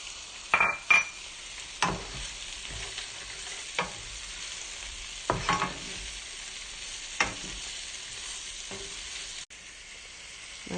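Walnuts and almonds fry in a pan for Ragusan tripe, a steady soft sizzle under repeated scraping stirs and occasional light clinks of a utensil against the pan, with no voices.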